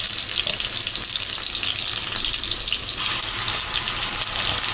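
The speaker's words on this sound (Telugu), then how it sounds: "కొంచెం అల్లం వెల్లుల్లి పేస్ట్ పచ్చివాసన పోయే వరకు వేయించుకుందాం." Half a teaspoon of ginger garlic paste fries in a pan with browned ingredients while cooking a potato and eggplant curry, giving a steady, dense, continuous sizzle at close range that holds evenly loud throughout with no voices.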